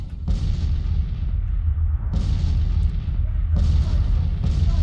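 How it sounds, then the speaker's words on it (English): Artillery fire in the Civil War strategy game Grand Tactician: The Civil War, a steady low rumble broken by several heavy booms spaced a couple of seconds apart, with voices faintly mixed in. "artillery everywhere up here has found something to shoot at"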